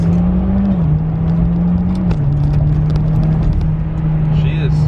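A Mitsubishi Lancer Evolution X MR with a dual-clutch gearbox accelerates hard, its engine droning steadily with a quick drop in pitch at each upshift, heard from inside the car while a person talks over it.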